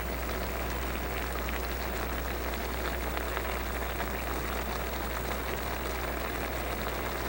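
A pot of food simmering hard on a home kitchen stove, giving a steady, even bubbling hiss that holds without a break from start to finish.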